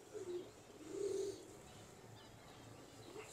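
Pigeon cooing softly, a faint low coo near the start and a slightly longer, stronger one around a second in, over a quiet background with no talk.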